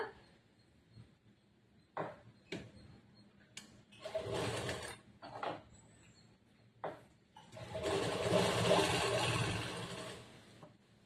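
A sewing machine stitches a churidar semi-patiala pant in short bursts, then in one longer run, with quiet pauses between the stretches of stitching.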